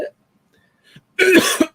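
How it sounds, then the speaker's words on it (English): One person coughs sharply, once briefly at the start and then harder in a rough, throaty burst after a short near-silent pause, loud and close to the microphone. "I coughed, but in the middle of the cough, the throat."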